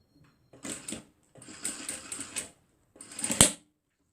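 A sewing machine stitches a reversible fabric face mask with a filter pocket, running in three short bursts with brief pauses and a sharp click near the end, close up with no talking.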